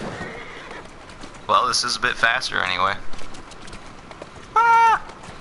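Horses whinny loudly in the video game Assassin's Creed Syndicate, two drawn-out neighs several seconds apart with clip-clopping hooves between them and someone talking over the sounds.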